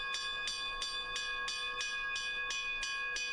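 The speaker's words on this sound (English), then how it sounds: "The violent ringing of a bell began to echo throughout the camp" An alarm bell on a watchtower in a military camp in Lost Odyssey rings rapidly and steadily, about three strikes a second, bright metallic clangs with a sustained ringing tone over faint background hiss.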